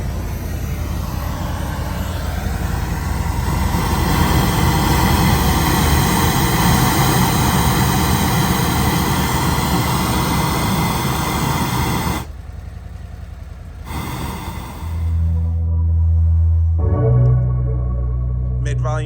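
A 2023 Harley-Davidson CVO motorcycle engine runs at a steady low idle with a deep rumble throughout, with bass music from the bike's speakers playing over it.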